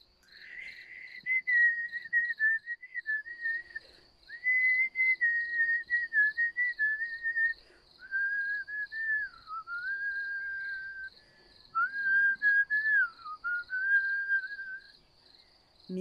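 A homemade reed flute, cut with a machete, with holes dug and the mouthpiece bevelled, plays a wavering, whistle-like melody in several phrases, alone over a steady high chirping background.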